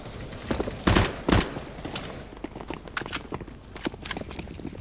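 Gunfire in the video game CS:GO: a couple of loud, sharp shots near the start, then scattered fainter shots and footsteps amid game noise.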